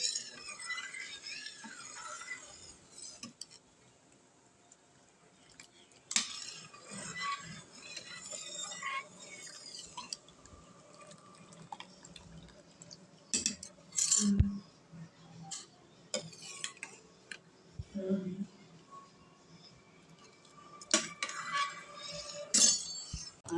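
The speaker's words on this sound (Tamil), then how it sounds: "அடி பிடிக்க விடாமல் கிண்டி விட்டுட்டே சிம்மிலையே வச்சு வேகணும்" A spoon scrapes and clinks against a metal pot of milk and basmati rice simmering into payasam, in irregular bursts, separated by quieter stretches of soft stirring.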